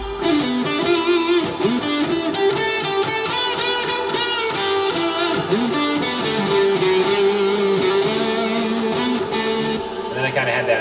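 A distorted electric guitar plays a sustained, melodic lead with a spacious, echoing reverb over a full backing, continuous and fairly loud.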